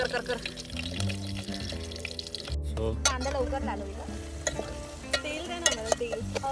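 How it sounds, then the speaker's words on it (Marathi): Curry leaves crackle and sizzle in hot oil, with clattering stirring and scattered pops over several seconds while people talk over the cooking. "आपण कढीपत्ता टाकलेला आहे आणि थांब थोडं कढीपत्ता तो जरा हे होऊ दे, तुडतुड दे"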